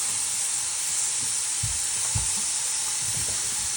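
Cooking wine hits a hot pan for stir-fry chow mein spaghetti and gives a loud, steady sizzle throughout, with a few soft low thumps of stirring underneath and no talk.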